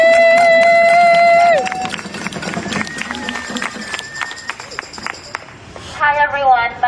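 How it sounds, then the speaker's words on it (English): Audience applause at an international gathering, starting after a sustained tone fades and continuing as a lively, crackling patter of many hands with scattered cheers and voices, tapering off near the end as another tonal sound enters. "let's give them a round of applause"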